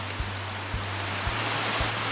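Heavy rain pours down steadily while a floor is being laid, a dense uniform wash of noise with faint regular low thumps beneath and no voices.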